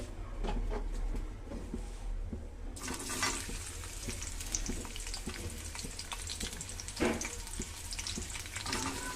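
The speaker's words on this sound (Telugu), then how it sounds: "ఆనియన్స్, మిరపకాయలు, కరివేపాకు వేస్తాను" Onions, green chillies and curry leaves frying in hot oil for a drumstick and tomato curry, a soft sizzle that swells into louder, denser crackling partway through, with faint stirring taps.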